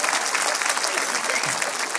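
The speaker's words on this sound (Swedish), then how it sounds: "Applåder," Dense, steady applause from a theater audience at a Swedish stage performance, a continuous crowd of many hands clapping at even loudness with no voices.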